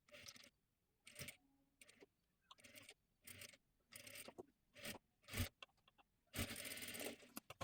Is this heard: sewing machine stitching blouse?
yes